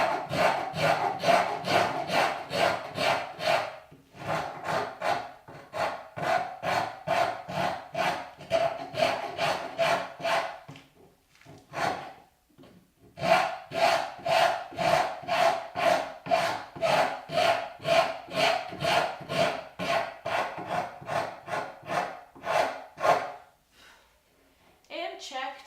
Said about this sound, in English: keep your rasp parallel with that oval